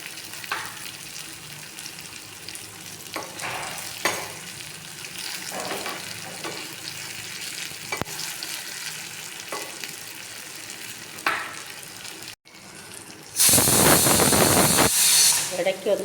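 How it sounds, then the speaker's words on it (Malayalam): Masala-coated okra fries in hot oil in a home kitchen, a steady close sizzle broken by stirring scrapes, ending in a loud burst of hissing as more pieces hit the oil. "മസാല പുരട്ടി വെച്ചേക്കുന്ന വെണ്ടയ്ക്ക ഇട്ട് പൊരിച്ച് കോരി എടുക്കാം"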